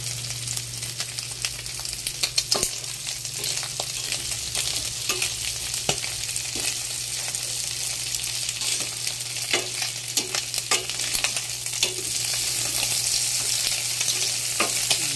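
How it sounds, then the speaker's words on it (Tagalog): Pork intestines frying in their own rendered fat, a continuous dense crackling sizzle with frequent sharp pops and spatters throughout, close and fairly loud. "Pupulahin lang natin to. Ang tawag dito is sinangag. Ayan. Isasangag lang."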